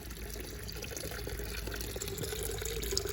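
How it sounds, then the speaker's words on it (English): A formal fish pond fountain sprays jets of water out the side and top, a steady close splashing hiss running unbroken from start to finish. "this one here shoots a little bit of water out the side here, and it shoots a little bit of water out the top"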